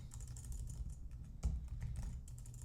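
Typing on a computer keyboard during a WordPress install on localhost, a quick run of light clicky keystrokes with one louder tap near the middle, steady and close with no voices.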